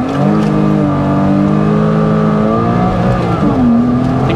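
A Porsche Boxster S 987 makes an aggressive launch, its engine roaring loud and close with harmonics rising steadily through a gear, then dipping and climbing again as it shifts, sustained throughout.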